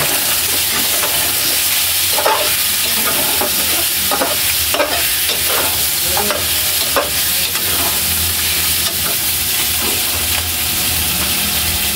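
A pot of Filipino chicken tinola is stirred up close, with a steady sizzle and hiss under scraping and clinking strokes of the spoon.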